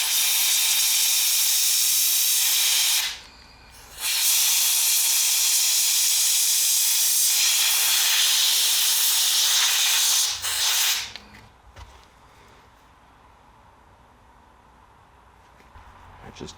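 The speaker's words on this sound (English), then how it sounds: "Give it a bit of an air dry with the hose." Compressed air from a hose blasts loudly across a freshly rinsed high carbon steel fixed blade pocket knife, a steady broad hiss broken by a brief pause, then cutting off into quiet room tone with faint handling.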